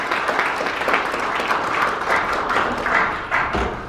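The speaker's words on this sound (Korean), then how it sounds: "큰 박수 부탁드리겠습니다." Audience applause at a Korean community council New Year gathering in Atlanta, a dense, fairly loud burst of clapping that carries evenly throughout with slight swells and no speech.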